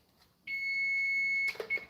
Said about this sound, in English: my alarm finna go off